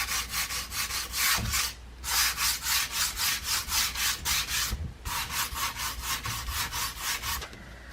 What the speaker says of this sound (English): I'm just going to use a bit of a sander just to smooth it out a little bit